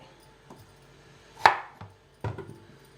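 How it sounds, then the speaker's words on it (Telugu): A big knife chops through elephant foot yam in three or four separate, well-spaced thuds on a board, one loud and sharp, the others softer, over a quiet background. "పెద్ద చాకుతో అయితే ఈజీగానే వెళ్ళిపోతుంది ముక్కలు కట్ చేస్తాం అంతే"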